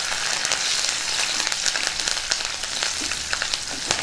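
Cumin, garlic, dried red chilies, onions and curry leaves frying in hot oil in a pan, a steady close sizzle with crackles and spits as the mixture is stirred, no voices.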